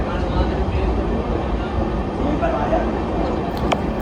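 The LTT-Bhubaneswar summer special passenger train running at speed, a steady loud rumble with a faint rhythmic clatter, heard from inside while a person talks over it.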